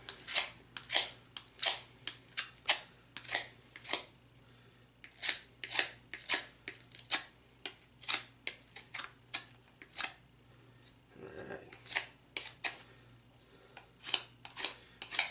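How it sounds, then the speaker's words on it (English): A knife whittles wood into a cuneiform stylus in a rapid series of close, crisp scraping cuts with short pauses between strokes, with no voices. "So you take your knife and you're just going to whittle that away."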